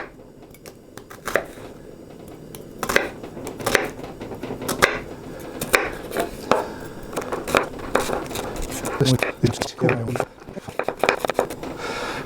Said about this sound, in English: And when I say finely chopped, I mean exactly that, finely chopped.